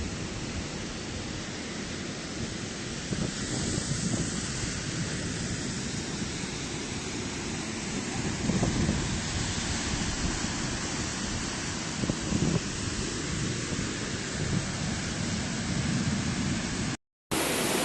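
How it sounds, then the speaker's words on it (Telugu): Tharabu waterfall near Paderu pours in a continuous broad roar of rushing water, steady and full for the whole stretch, briefly cut out near the end, with no talking. "వాటర్ ఫాల్ అయితే మామూలుగా లేదు."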